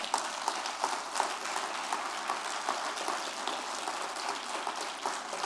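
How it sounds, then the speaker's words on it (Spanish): Applause from a church congregation during a sermon, a steady wash of many hands clapping at moderate distance with no voices over it. "Dar un aplauso de verdad."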